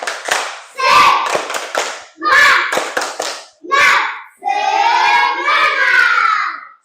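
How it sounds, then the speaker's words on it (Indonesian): Children in a classroom perform a rhythmic clapping cheer during a lesson, with bursts of sharp claps alternating with group chanting voices, then a sustained shouted cheer at the end, loud and close. "Tepuk semangat."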